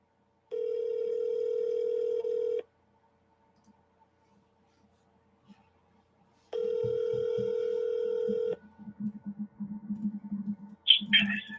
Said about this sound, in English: We got some ringing going on.